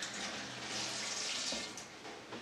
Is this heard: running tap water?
yes